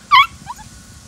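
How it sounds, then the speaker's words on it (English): A single short, high yip from a poodle puppy in a litter, followed by a fainter whimpering squeak, close and fairly loud over a quiet indoor background. "I know you're barking at me because I'm right in front of you."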